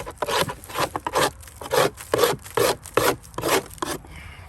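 A hive tool scrapes repeatedly across wooden beehive frames, about ten rough, rasping strokes in a steady back-and-forth rhythm, close and loud with no talk.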